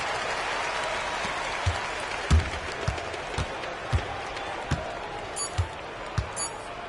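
A home crowd at a Eurobasket game between Lithuania and Finland applauds in a sustained roar, with sharp basketball bounces and thuds punctuating the noise at a moderate distance.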